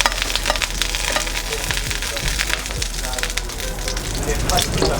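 Blanched shallots sizzle steadily in a drizzle of hot oil, a dense crackling fry that stays loud and close throughout.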